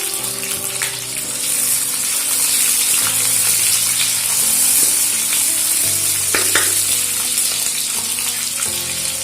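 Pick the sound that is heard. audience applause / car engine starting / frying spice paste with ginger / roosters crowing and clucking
frying spice paste with ginger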